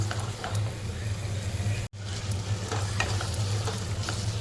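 Val beans (field beans) stirred and sautéed in a pan for a tondli (ivy gourd) vegetable dish, giving a steady close sizzle with spoon scraping throughout and one abrupt dropout midway, no talking.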